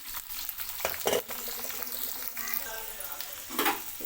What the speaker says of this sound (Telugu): మనకు ఆయిల్ కూడా హీట్ అయిందండి ఇప్పుడు కట్ చేసి పెట్టుకున్న ఆనియన్ ఆలుగడ్డ ముక్కలు అయితే వేసుకుందాం